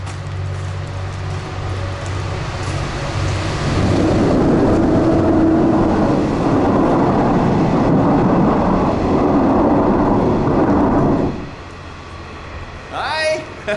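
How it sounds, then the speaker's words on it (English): A train rumbles over a bridge overhead, a loud, steady roar building after a few seconds, holding for about seven seconds, then cutting off abruptly as it passes; a voice briefly sounds near the end. "The train's coming, I thought we'd hang around in this spot while it goes over."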